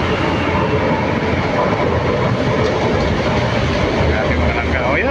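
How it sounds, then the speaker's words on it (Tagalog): An LRT train rumbles loudly and steadily close by as it pulls into Baclaran station, its heavy drone filling the whole stretch with faint voices beneath. "ito yung tren kararating lang"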